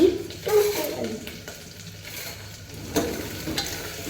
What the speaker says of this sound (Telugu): తిప్పుతున్నాను. తిప్పుతున్నాను.